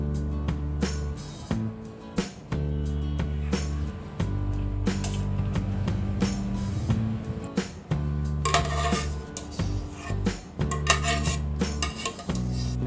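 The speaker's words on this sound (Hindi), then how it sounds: "ये बाउल के ऊपर ये एक स्ट्रेनर रखेंगे और ये राइस स्ट्रेन कर लेंगे।" Cooked jeera rice being strained through a metal strainer set over a bowl, with close, busy clatter and scraping of utensils and cookware, repeated knocks and clinks over a steady wet background, without voices.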